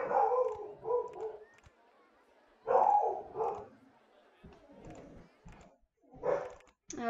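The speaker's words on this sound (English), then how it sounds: "dogs are always acting up when I'm trying to stream" Dogs bark and yip in short irregular bursts a little way off, mixed in with a person talking nearby.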